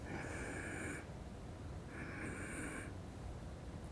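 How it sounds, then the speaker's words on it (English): Two quick nasal inhales, a breath pair taken in for a physiological sigh breathing exercise, each lasting about a second with a short pause between, close and soft with a steady hum behind. "So in that way, we take 2 breaths in,"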